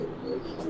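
A pigeon gives a soft, brief coo at a pigeon farm, low and murmuring, heard close and alone.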